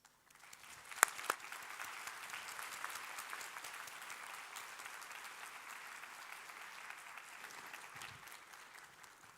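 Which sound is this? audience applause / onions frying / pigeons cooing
audience applause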